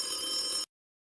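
A telephone rings for a call-in on a live stream, a single short electronic ring burst that cuts off abruptly into silence.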